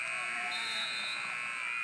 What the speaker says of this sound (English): Buzzer sounds, and Wells will take a 3-1 lead into the sec